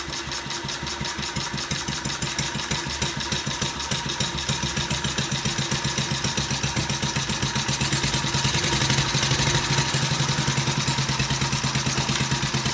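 Small engine driving an alternator, running close and loud with a fast, even chugging beat that holds steady throughout, rising slightly in intensity toward the end.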